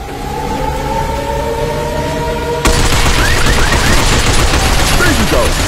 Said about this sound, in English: Stop them by shooting their legs.